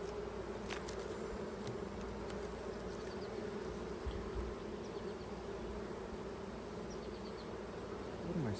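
Honey bees swarm around an opened beehive, producing a dense, continuous buzzing hum that stays steady and fairly quiet throughout, with no voices.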